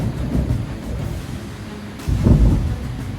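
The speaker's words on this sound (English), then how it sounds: "hearing the thunder echo through the valley" Thunder rolling through an Alpine valley in Savoie during a summer storm, a low rumbling that lingers and swells into a louder, deeper crack partway through, with faint rain and wind beneath.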